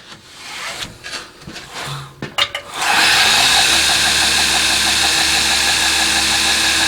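A belt grinder fitted with a 400 grit belt sharpens a custom knife, starting with a few clunks and handling knocks, then spinning up into a loud, steady whirring drone that runs to the end.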